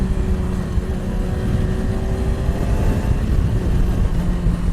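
A 2018 Yamaha R6 sport motorcycle being ridden, its engine giving a steady, continuous drone with a faint whine layered over a rumbling low end, holding even and moderately loud throughout with no voices.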